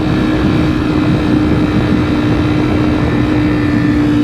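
A Ducati V4 SP motorcycle engine at speed during a ride, a loud steady drone with a strong constant tone and heavy rushing wind noise throughout, no talking.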